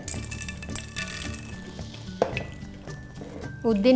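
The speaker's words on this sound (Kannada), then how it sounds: "ಎಣ್ಣೆ ಕಾದಿದೆ ಸಾಸಿವೆ ಕಡಲೆಬೇಳೆ" Mustard seeds and chana dal crackle and sizzle in hot oil while tempering for vangibath, with a spoon stirring and a few metal clinks against the pan; fairly quiet and close.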